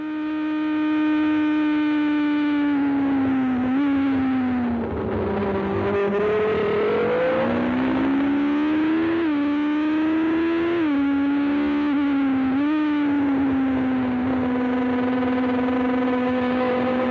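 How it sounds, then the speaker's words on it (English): Onboard at the 1979 Swedish Grand Prix as a Ligier overtakes a group of Formula 1 cars: a loud, sustained racing engine whine rising and falling through repeated gearshifts, with other cars' engines layered in and no talking. "Lafitte passes the lot of them in his Ligier"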